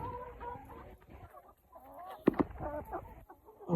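Black Australorp laying hens cluck in short, overlapping bursts nearby, with a few louder squawks in the middle; no speech.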